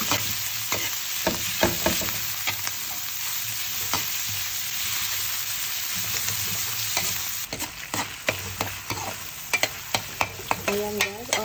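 Ground pork sizzles in a hot pan with garlic and onion, a continuous loud frying hiss punctuated by spatula scrapes and stirring clatter, no voices.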